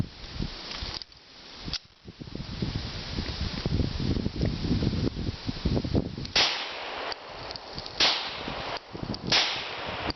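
A Springfield XD 40 Tactical pistol fires outdoors: a handful of sharp, irregularly spaced shots cut through heavy, constant wind buffeting.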